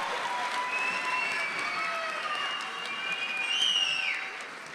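Audience at a college commencement ceremony applauding graduates of a master's degree program, a steady, broad wash of clapping with a few faint cheers and whistles, sustained throughout at moderate loudness.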